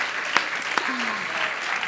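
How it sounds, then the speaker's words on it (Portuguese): A church congregation applauds, a steady burst of clapping from many hands, with a voice speaking over the top. "Vou dar uma salva de palmas para Paulão e Marcela"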